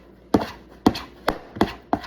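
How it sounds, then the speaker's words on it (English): A hand works flour-and-water dough in a container, scraping the bottom, making about five dull, regular knocks roughly every half second, close and clear with nothing else over them. "moving the dough out of the way, scraping the bottom, and then I'll flip it over"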